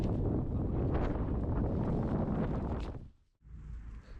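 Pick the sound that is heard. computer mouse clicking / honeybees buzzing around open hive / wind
wind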